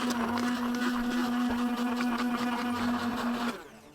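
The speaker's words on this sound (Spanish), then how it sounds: "Ponemos un pellizquito de sal y trituramos con la batidora hasta formar la picada." Hand blender whirring steadily as it purees garlic, parsley and olive oil with a pinch of salt, a close, continuous motor whine for about three and a half seconds before cutting off.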